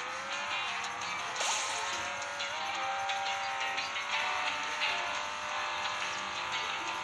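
Cars race in an offline mobile racing game, a steady engine whine with shifting pitch, occasional tire squeal and quick revving bursts, loud and continuous without voices.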